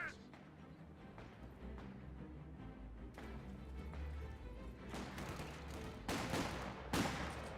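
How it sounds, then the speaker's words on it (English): Quiet, distant MG42 machine gun bursts from the Company of Heroes 2 strategy game sit beneath a busy battlefield mix, with louder crashes and volleys near the end. "MG42 suppressing down that intersection, forcing it back."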